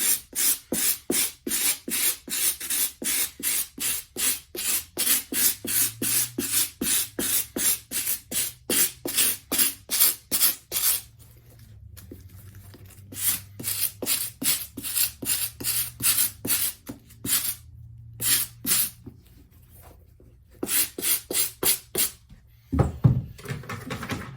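Small rocks being picked out of the sole of an Undefeated Nike Dunk Low sneaker, heard as a long run of quick, rhythmic, close scratching strokes with brief pauses.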